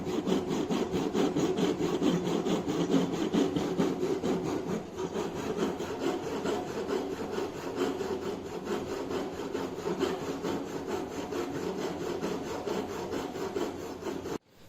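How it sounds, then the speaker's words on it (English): A hand saw cuts through a wooden workpiece clamped in a vise in a carpentry shop, with steady back-and-forth rasping strokes that continue close and loud for about fifteen seconds before stopping abruptly. "with the help of saw a cutting is performed at 10 mm"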